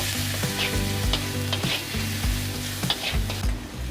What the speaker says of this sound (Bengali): এবারে পেঁয়াজটাকে একটু ভেজে নেব